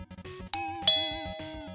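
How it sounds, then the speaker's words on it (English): A doorbell gives two bright ding-dong chimes in quick succession, ringing out and fading slowly over soft rhythmic background music. "The doorbell rang and I went to open the door."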